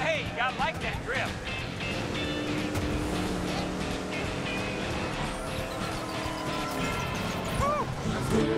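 Race car engine roars continuously while drifting in the Cars 3 video game, with tire and motor noise layered under game voices and background music throughout.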